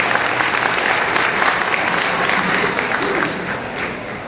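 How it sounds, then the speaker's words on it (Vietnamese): Loud, sustained applause from a church crowd welcoming guests at a priest's 55th birthday celebration, a dense continuous clatter of many hands that eases slightly near the end. "xin tất cả chúng ta vỗ tay một thật lớn"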